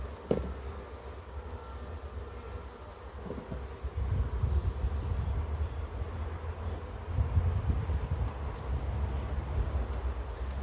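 A honeybee colony being moved frame by frame into a hive gives off a constant, close buzzing hum that rises slightly partway through, with a few soft knocks.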